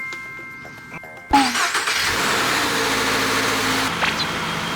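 A Toyota GR86 Cup Car fitted with a K&N air filter cranks and starts with a sharp catch, then settles into a steady mid-pitched idle close by.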